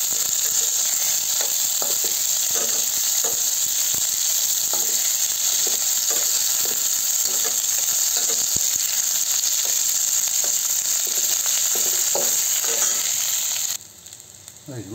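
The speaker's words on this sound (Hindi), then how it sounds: "लहसुन डाल देंगे, प्याज मरचा डाल देंगे" Garlic, onion and chili fry in a pan with a loud, constant hiss and crackle, close up and unbroken for most of the time, with faint stirring scrapes underneath before the sizzle drops away near the end.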